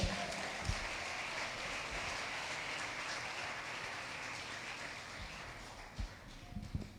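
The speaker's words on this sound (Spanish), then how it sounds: "Dele un aplauso al Señor." Congregation at a church fasting service gives steady, broad applause, a dense wash of clapping at moderate distance that continues evenly before tapering with a few isolated claps near the end.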